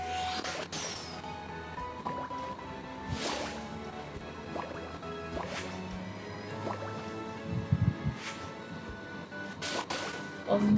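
Bubbles popping as they are collected in the match-three mobile game My Story Mansion Makeover: repeated bright drips, squishes and gurgling pops at irregular intervals over soft background music, with a voice speaking at times.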